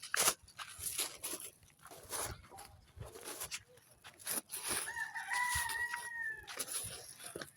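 Chickens cluck around a home while a rooster crows clearly partway through, with scattered crunching and soft background noise.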